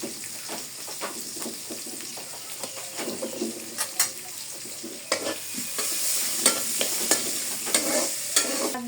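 Garlic and green chillies frying in hot oil in a pan, with a steady close sizzle and repeated scraping and clinking as they are stirred with a utensil.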